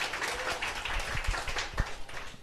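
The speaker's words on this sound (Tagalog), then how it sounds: "Sipo, palakpak po, palakpak." A seminar audience clapping in a business presentation hall, a steady wash of applause with some louder individual claps, moderately distant and without talking.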